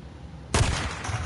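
Gunfire in the video game Days Gone, one sudden loud blast that rings out into a lingering rumble and echo.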